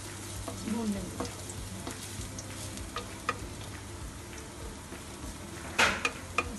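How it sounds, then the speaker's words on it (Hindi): Garlic frying in ghee in a pan for chowmein masala makes a lively crackling sizzle, with a spoon stirring and scraping and a few sharp metallic knocks toward the end. "1 चम्मच घी, सबसे पहले हम इसमें लहसुन डाल के इसे अच्छे से भून लेंगे।"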